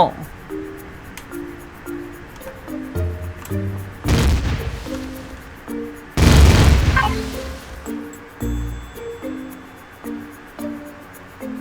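Space combat in the game Empyrion brings heavy booming blasts from spaceship weapons, two long roaring explosions standing out among rhythmic tonal game effects, with someone talking excitedly throughout.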